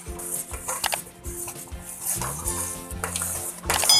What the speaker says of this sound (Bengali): আস্তে আস্তে ঢেলে আমি এবার নাড়বো